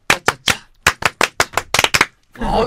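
Hand clapping in a podcast studio for an arriving guest: about a dozen crisp, close claps in a slightly uneven rhythm, followed by a brief burst of noise.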